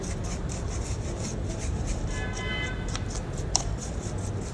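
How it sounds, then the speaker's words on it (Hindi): A brush sweeps steadily across an Asus Vivobook laptop, clearing dust from its surface with a continuous close scratchy rubbing that carries a few brief brighter strokes. "अभी हम ब्रश की मदद से ऊपर से जो डस्ट पार्टिकल्स हैं उनको क्लीन कर लेंगे।"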